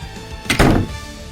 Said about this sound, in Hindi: इस बार अनाया और समीर उसे फ्रिज में बंद कर देते हैं